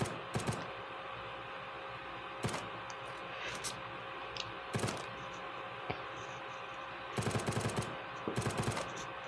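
Burst-fire pistol gunfire in a video game, with faint, quiet sharp shots, several of them grouped in quick bursts with gaps in between, over a low background.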